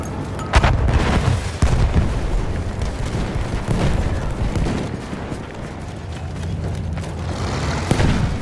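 Grenade explosions in the video game Battlefield, heavy booms over continuous battle rumble and scattered gunfire, loud and close, with a few sharp blasts punctuating the din.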